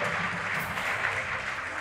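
An esports event crowd at the 2022 FIA Motorsport Games applauds and cheers for a driver being introduced, a steady, dense wash of clapping that fills the whole moment with no voices standing out.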